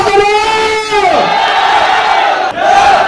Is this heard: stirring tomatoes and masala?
no